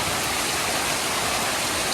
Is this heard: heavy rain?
yes